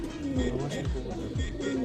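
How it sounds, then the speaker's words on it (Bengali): Pet pigeons cooing nearby in a low, rolling rhythm, with several repeated coo phrases, while a person talks over them. "শখের কবুতর যার তুলনা হয় না"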